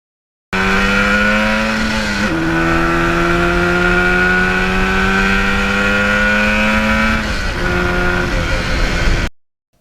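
A 1977 Yamaha RD400 two-stroke motorcycle accelerates hard through the gears, its loud, close engine note climbing, dropping at each shift, climbing again, then cutting off.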